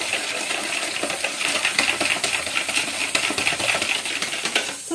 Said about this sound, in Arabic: غادي نخلط هذا الخليط مزيان مزيان حتى يتبدل ليا اللون ديالو يولي اللون ابيض